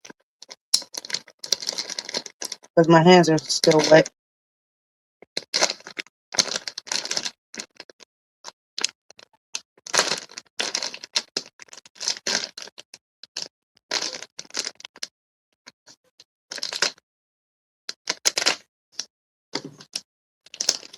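A plastic food bag of frozen pizza bits gets cut open up close: sharp crinkles and snips come in short, uneven bursts separated by quiet gaps, with a person speaking briefly.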